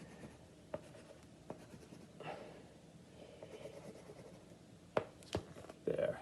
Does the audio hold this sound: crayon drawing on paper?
yes